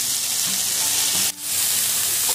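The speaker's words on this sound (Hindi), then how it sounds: "जीरा लाल हो गया है, अब हम इसमें लहसुन डाल देते हैं।" Garlic dropped into hot oil with cumin seeds sizzles and fries steadily, a close, continuous hiss with a brief dip in the middle before the crackle resumes.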